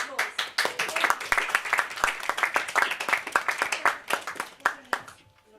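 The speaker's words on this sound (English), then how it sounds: "can the rest of you please give them a round of applause" Audience clapping and applauding for volunteers called up on stage during a live theatre performance, a dense burst of many hands that carries on steadily and then thins out at the end.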